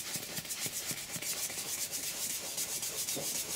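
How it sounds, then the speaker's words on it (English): A cloth wipes cleaner off the back of a Rolls-Royce leather seat in steady, close rubbing strokes, a continuous soft scrubbing with faint rhythmic pulses and no voices. "just gently wiping down the back of the seat to remove the cleaner"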